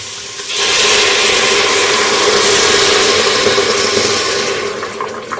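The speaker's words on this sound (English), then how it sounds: "I'm going to pour in the wine." Wine pouring into an Instant Pot holding vanilla and figs for mulled wine, a loud continuous rushing splash that starts abruptly and runs steadily before tapering at the end.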